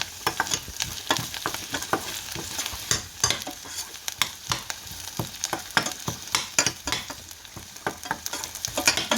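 Drumstick (moringa) pods frying in a pan for sodhi, with steady sizzling and repeated scraping stirs at a fairly even pace, close by and without speech.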